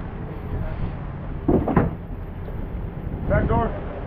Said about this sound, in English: Hayden, open those doors.